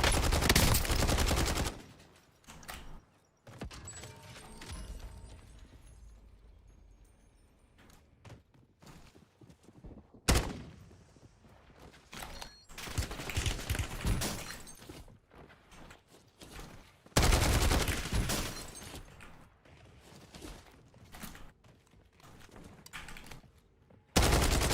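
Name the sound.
CR-56 gunfire in a video game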